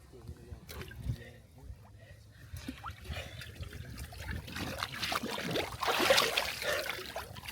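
Water sloshes and trickles in a 40-degree cold plunge tub after a sauna, soft movement that builds to a louder splash near the end, with a voice speaking over it.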